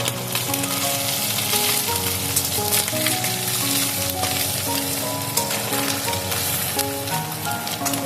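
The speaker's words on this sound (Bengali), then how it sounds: "মাছগুলো আমি দুবারে ভাজবো।" Small chuno fish fry in hot oil in small batches for a Bengali chorchori, with a steady, close sizzle over the whole stretch and a tonal music bed underneath.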